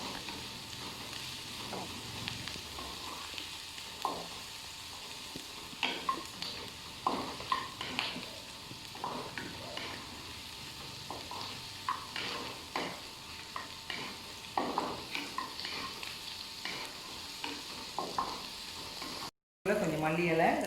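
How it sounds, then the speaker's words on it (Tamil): Sliced onions with green chilies fry in a pan for pepper chicken, a continuous close sizzle punctuated by repeated scraping stirs at an uneven rhythm, with a short break near the end. "நல்லா ஸ்மெல் வர வரைக்கும் இந்த வெங்காயத்தை நம்ம ஃப்ரை பண்ணிட்டு"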